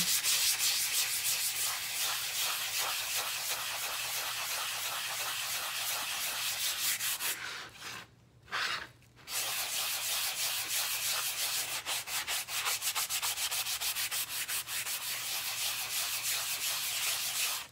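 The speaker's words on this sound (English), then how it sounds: "Just sand a little of him, smooth him out so the lines go away." Steady, even rubbing of sandpaper smoothing a Christmas craft piece, continuous and close, with one brief pause partway through before the scraping resumes.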